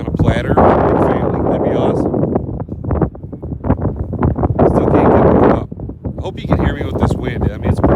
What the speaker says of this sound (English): I mean, it's pretty stiff wind.